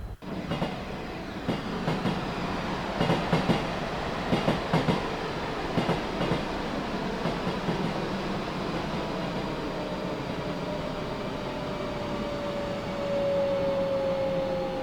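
Class 350 electric train running on the WCML near Lichfield Trent Valley in Train Sim World 6, a steady rolling rumble with clusters of rhythmic clickety-clack from rail joints and a rising whine toward the end.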